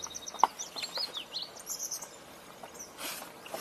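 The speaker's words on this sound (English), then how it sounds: "just heard another marsh wren over here." A marsh wren sings in a marsh, its short buzzy, rattling trills and chirps repeating against a quiet background hum of insects, moderately distant and with no talking.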